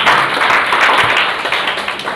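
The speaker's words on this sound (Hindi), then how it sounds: "शाबाश, ताली बजाओ गुड़िया के लिए।" Children in a classroom clap together for a girl in a brief, loud burst of fast, scattered hand claps close by.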